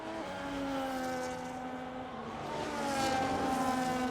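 Race cars at the Japanese Grand Prix in a sim racing game, engines whining at high revs as one car overtakes another, the pitch shifting smoothly with a brief rise as they pass, heard without talk.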